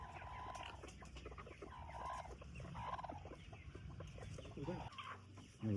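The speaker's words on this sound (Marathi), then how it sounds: "आता ही कोंबडी अंड्यावर बसलेली." Hen sitting on eggs at a poultry farm, clucking in a few soft repeated calls with other fowl sounds around, under steady background noise and brief handling noises near the end.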